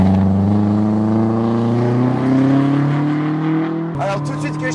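Naturally aspirated engine of a modified Peugeot 206 S16 revving hard, its pitch climbing steadily in a loud, close, continuous drone before an abrupt shift near the end, with voices talking over it.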